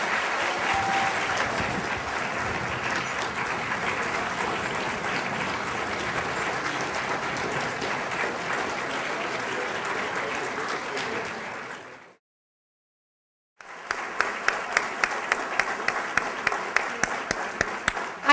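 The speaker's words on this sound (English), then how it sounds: "Can we give them another round of applause?" An audience at a Martin Luther King Day of Service event in Atlanta applauds loudly and steadily for about twelve seconds, then after a brief silence the clapping resumes with sharper, distinct claps.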